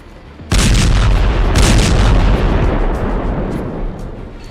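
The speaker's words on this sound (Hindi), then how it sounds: "इंटरकॉन्टिनेंटल मिसाइल का धमाका ऐसा होता है।" An intercontinental ballistic missile strike on Dnipro, Ukraine erupts in a sudden massive blast, followed by a long rumbling roar that slowly fades, with a few sharper cracks mixed into the thunderous noise.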